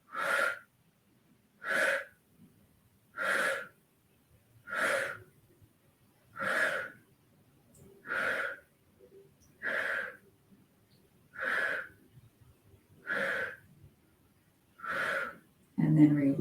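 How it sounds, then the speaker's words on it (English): Deep rhythmic breathing during a core exercise held in a twist, with about ten forceful, evenly spaced exhalations sounding close and clear, separated by quiet pauses. "as you hold the twist, we'll do 10 breaths, tightening on each exhalation."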